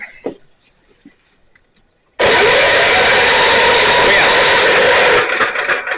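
A Generac 7000 EXL portable generator under repair bursts into a loud, steady roar after a quiet stretch with a few faint knocks, running close by and then easing slightly near the end.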